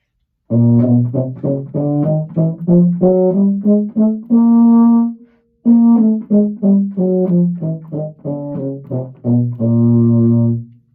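A mellow euphonium plays a rising and falling chromatic run of notes, slurred two and tongued two, with a brief pause midway.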